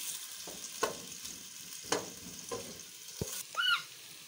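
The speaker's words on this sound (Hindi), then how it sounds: "अब हम इसे फ्राई करते हैं 5 मिनट" Mutton liver with onions, garlic and ginger sizzling in a hot pan, a steady soft frying hiss broken by spatula scrapes and stirring knocks, close and quiet with no voices.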